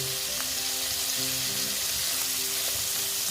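Paneer pieces fry in hot oil with a continuous, even sizzle and faint bubbling, close and moderately quiet, with no talking.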